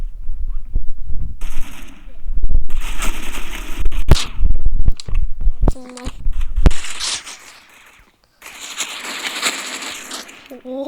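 Video game gunfire in quick bursts and single sharp shots, loud and close, mixed with someone talking over it and some softer game noises between volleys.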